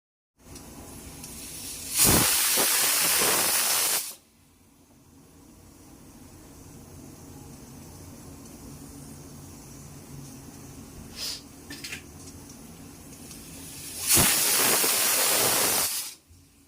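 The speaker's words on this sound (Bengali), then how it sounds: "আমি সিদ্ধ করতে দিয়ে দিচ্ছি।" Plantain flower boils in a pressure cooker on the stove with salt and turmeric, giving two loud bursts of hissing steam about twelve seconds apart over a quiet low kitchen hum, with no voices.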